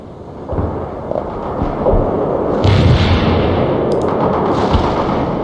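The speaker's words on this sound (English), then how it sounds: "Napalm payload dropped at designated coordinates" Napalm strike in World in Conflict, a sustained roaring blast of fiery explosions with sharp booms and crackling bursts layered over a heavy, loud rumble that keeps building for several seconds.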